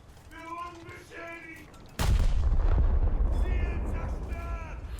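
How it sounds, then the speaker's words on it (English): Heavy 283mm battleship guns fire HE rounds in a video game, one sudden loud boom after two seconds rolling into a long low rumble, with faint talk before it. "Switch to HE rounds, because I assume 200mm plus guns should be able to do something."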